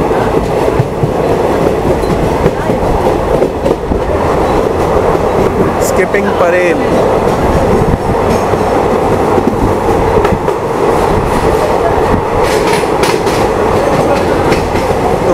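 A Mumbai Western Line local train runs along the tracks near Parel with a steady loud rumble and rattle of wheels and coaches throughout, a brief screech around the middle, and someone speaking over it.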